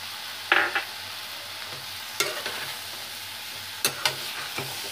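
Tomato spice paste with ground coriander and cumin fries in a pan under a low, soft sizzle, broken by three clusters of sharp spoon scrapes and knocks as it is stirred, no talking.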